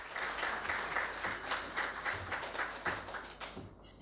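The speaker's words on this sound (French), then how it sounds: "je vais demander d'applaudir pour vous-même" A live audience at a women's entrepreneurship investment panel claps steadily for about four seconds, a dense, even patter of many hands with a few sharper beats, fading slightly at the end.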